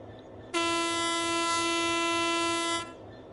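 A steady, loud horn of a runaway train in the video game Train Sim World 4 blares continuously for about two seconds, then cuts off, leaving a low rumble of background noise.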